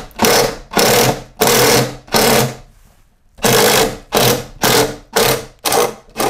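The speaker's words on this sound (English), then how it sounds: "I like to use the 3/4 spade bit. Locate where the middle of that top plate stud is. Drill right through that middle" A drill with a 3/4-inch spade bit bores through a wooden top plate stud in an attic, giving eight loud, close bursts of grinding, each under a second long, with a short pause in the middle.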